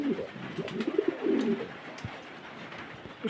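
At a pigeon farm, a pigeon gives a few soft, low cooing phrases near the start, then quieter rustling and faint background sound.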